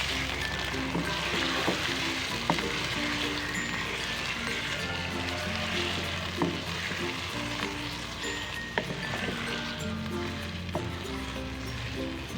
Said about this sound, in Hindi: अब हमने इसमें चिकन शामिल करें। अब इसे भूनेंगे हल्का सा